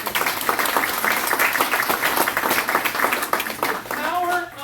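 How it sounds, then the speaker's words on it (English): A crowd at a governor candidate's campaign event breaks into loud, rapid clapping mixed with cheering voices, and someone speaks as it tapers near the end. "Can we clap for that?"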